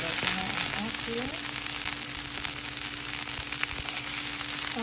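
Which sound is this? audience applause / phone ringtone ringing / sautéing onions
sautéing onions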